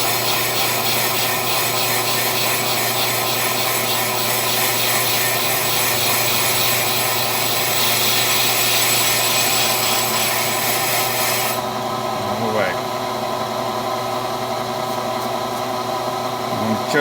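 A brake lathe machines a warped brake rotor, giving a loud, steady grinding and rasping drone with a constant low hum, the harsh high scrape dropping away partway through while the machine keeps running.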